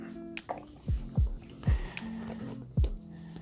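Cooking oil glugging into a frying pan on a gas stove before frying pelmeni, heard as about five close, low, gurgling glugs in an uneven rhythm.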